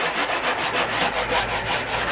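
Sandpaper rubs back and forth on a wooden sound box in quick, even strokes, a close and steady scratchy rasp.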